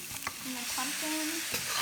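Carrots and pumpkin sizzle in hot oil in a pot as a spoon scrapes and stirs them for a Trinidadian vegetable rice pilau, with a few quick scraping strokes over a steady fry.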